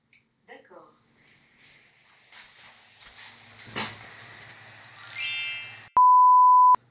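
A Tevo Tarantula 3D printer switches on after a spoken voice command: a rising electronic chirp, then a single steady, loud beep lasting just under a second.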